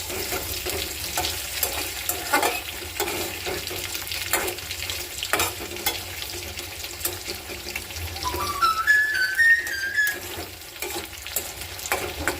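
Potatoes frying in a pan for a home lunch, a steady close sizzle with stirring scrapes throughout, plus a brief higher whine partway through.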